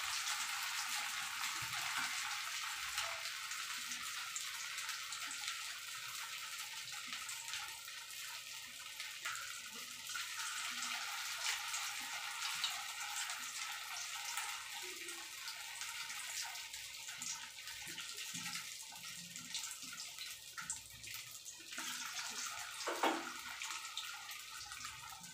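Soybean koftas frying in a pan on lowered heat make a steady, fairly quiet bubbling hiss of oil throughout, with a few faint clinks and spatters scattered along.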